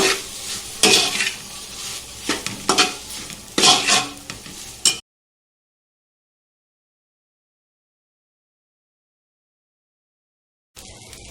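Rice with food colour being stir-fried in a pan for restaurant-style triple rice: a few seconds of scraping and clattering spatula strokes with a soft sizzle, then silence before a brief return of kitchen noise.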